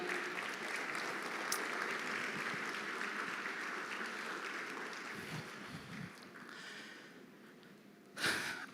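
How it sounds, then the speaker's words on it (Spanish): Congregation applause in a church service, a broad sustained wash of many hands clapping together for several seconds, fading toward the end before a short louder burst. "denle un fuerte aplauso al Señor."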